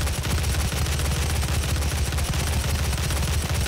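Rapid automatic gunfire in DOOM, a loud, dense, unbroken stream of shots that fills the whole moment with no pauses.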